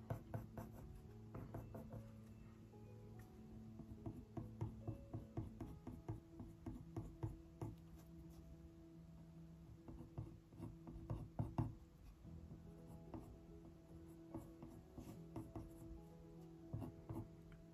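Coloured pencil strokes on paper for harvest mouse fur, a long run of quick, close scratchy scribbles in short repeated bursts, soft and steady over faint background music.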